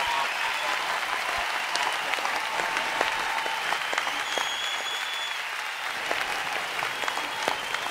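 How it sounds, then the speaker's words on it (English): An audience gives steady, sustained applause for a group of performing artists, a dense, even wash of many hands clapping from start to finish with no voices over it. "Please, please applause and thank these wonderful, talented artists"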